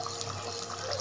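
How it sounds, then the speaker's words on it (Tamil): Water and coconut milk for a biryani bubble at a steady boil in a pot, a continuous close simmering wash with no talking. "நல்லா தண்ணி கொதிக்க ஆரம்பிச்சிச்சு"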